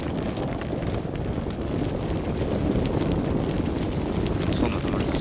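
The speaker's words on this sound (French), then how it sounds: "Oh, j'ai trouvé du vent." Wind blows across an open landscape in the space exploration game Astroneer, a constant broadband rushing with faint gusting texture and no clear pauses.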